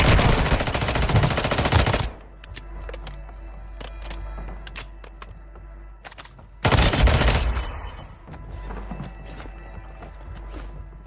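Gunfire in Warzone Mobile: two long, loud bursts of rapid automatic fire, one at the start and one later, separated by scattered single shots, clicks and a low ambient rumble.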